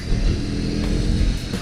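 A 2021 BMW R 18 motorcycle engine rumbles loudly and steadily under throttle, a deep, continuous low growl with slight swells in intensity and no pauses.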